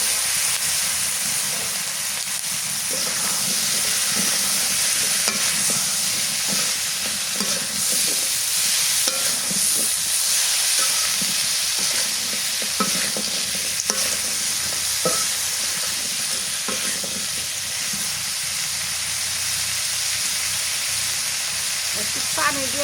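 Magur catfish curry with bitter gourd and potatoes frying in a pan under steady stirring, a continuous close sizzle with repeated scraping strokes throughout.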